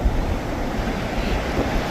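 Large surf rolls in at Kuakata sea beach, a steady dense roar of breaking waves mixed with wind buffeting the microphone.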